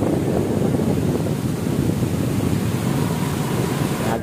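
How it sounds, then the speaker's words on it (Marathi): A waterfall in the Konkan countryside near Devrukh during light monsoon drizzle gives a steady, loud broadband roar with no breaks, close to the microphone and with no voices over it. "बघा सुंदर असा एक धबधबा आहे बघा"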